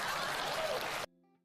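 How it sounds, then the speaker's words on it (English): Applause fills the room for about a second after a request to clap, a dense wash of many hands that cuts off abruptly, leaving a brief faint tonal hum. "Please clap."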